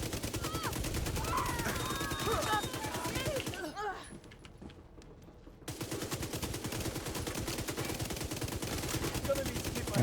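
A submachine gun fires in rapid sustained bursts in a video game, loud and continuous with a brief lull in the middle, and faint talk underneath.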